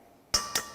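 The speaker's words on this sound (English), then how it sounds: "Crack in your egg." An egg cracked against the rim of a bowl while mixing healthy blueberry muffin batter with avocado and Greek yogurt: two sharp, close taps about a quarter second apart, each with a brief bright ring.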